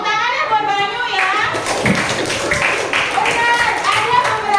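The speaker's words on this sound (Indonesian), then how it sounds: "Tepuk tangannya buat Banyu ya." Schoolchildren in a classroom clap for a classmate, with scattered hand claps starting after a moment and continuing unevenly alongside overlapping children's voices and a teacher talking.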